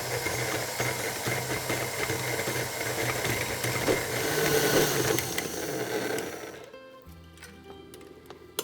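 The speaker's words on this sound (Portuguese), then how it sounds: "se você tiver qualquer batedeira planetária, funciona, desde que seja com o gancho, que é esse que a gente está utilizando aqui" A planetary stand mixer kneading pizza dough with a dough hook gives a steady, close mechanical whir with rhythmic ticking for several seconds, then cuts off, leaving a quiet hum and a faint click.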